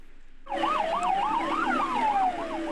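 An ambulance siren close behind a car on a city street, cutting in suddenly and loud with a rapid rising-and-falling wail that repeats over and over, alongside the steady hum of traffic.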